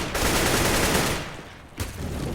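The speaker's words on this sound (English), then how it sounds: "Taz and Pasha both getting tagged up by the nades and the gunfire heading their way." Dense gunfire and grenade blasts from a professional CS:GO match on the Cobblestone map pour out as a loud, continuous volley, then ease briefly before another burst.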